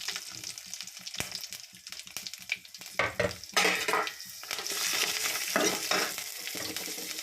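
Cumin seeds with dried and green chillies fry in hot oil for a pickle, crackling and sizzling steadily up close while a utensil stirs and scrapes the pan in bursts, with no talk.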